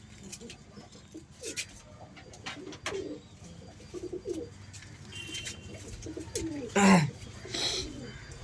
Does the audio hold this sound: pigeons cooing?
yes